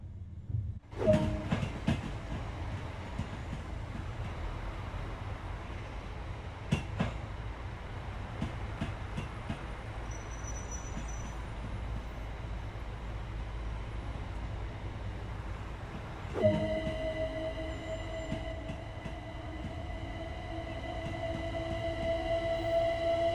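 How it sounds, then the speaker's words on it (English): A Gatwick Express Class 387 eight-car electric multiple unit runs in Train Sim World 2, with a steady low rumble, rail clatter and occasional sharp clicks, and a rising electric whine joining in near the end. "is a Gatwick Express Class 387 electric multiple unit and consists of 8 cars."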